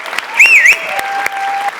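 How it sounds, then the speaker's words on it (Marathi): Enthusiastic audience applause fills a Marathi comedy stage show, a dense steady clapping with a brief whistle-like note rising over it early on. "जोरदार टाळ्या"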